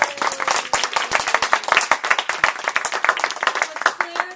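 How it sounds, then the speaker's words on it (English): Enthusiastic applause from an audience at a Toastmasters meeting, dense overlapping hand claps filling the room steadily for several seconds, close and fairly loud. "I think they deserve a round of applause."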